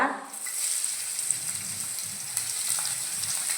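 Sliced onion frying in oil in a pan, a soft continuous sizzle heard close up and alone, with a faint tap at the start.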